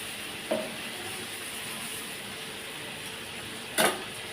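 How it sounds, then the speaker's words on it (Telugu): Brinjals fry gently in plenty of oil over a low flame, giving a soft, even sizzle with two brief louder crackles. "ఫ్లేమ్ కొంచెం తక్కువలో పెట్టుకొని అంటే సిమ్లో పెట్టుకొని మంచిగా వేయించుకోండి"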